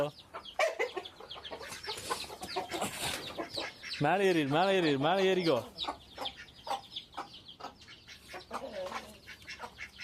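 Chickens cluck nearby in a burst of repeated calls, while a person talks before and after the clucking.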